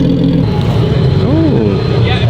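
Porsche 996 GT3 engine droning steadily at a seaside street, loud and continuous with a brief rising tone in the middle, under heavy wind and ambient roar.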